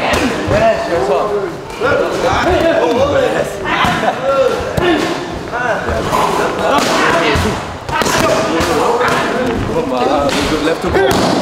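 Repeated thuds of Muay Thai punches landing on pads during padwork, irregular quick strikes mixed with a coach calling out and shouting encouragement throughout.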